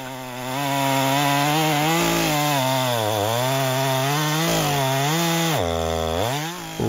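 A Stihl Farm Boss chainsaw cuts through a red oak trunk, its engine a loud, continuous high whine that dips and rises in pitch as the chain bites under load, with no voices.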